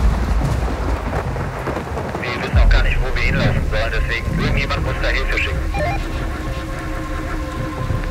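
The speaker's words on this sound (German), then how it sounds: "Wir sind jetzt gerade mittendrin im Blitzgewitter." Heavy rain and rolling thunder fill a stormy outdoor scene along a muddy road, steady downpour with a louder rumble midway, while people talk urgently over it.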